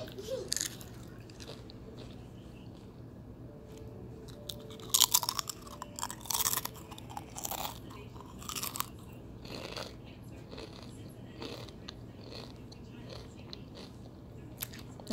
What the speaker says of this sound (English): I'm sorry about crunching.